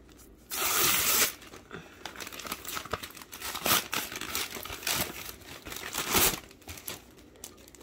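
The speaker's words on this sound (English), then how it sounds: "so here I have a padded recycle Amazon envelope. I'm going to try to open this." A padded recycled Amazon envelope is torn open: a loud sharp rip at the start, then a long stretch of crinkling and crackling paper handling with another burst of tearing near the end, no voices.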